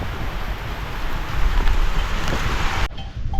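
Heavy rain pours down outdoors, a loud, dense rushing hiss mixed with gusty wind buffeting the microphone, cutting off abruptly near the end.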